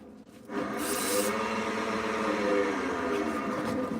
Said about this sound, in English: This is why God invented sandpaper. And we're going to start at 80 grit.